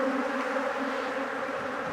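Honey bees buzz steadily around a lifted hive frame holding drone brood, a dense, continuous near hum filling the whole moment with no voices.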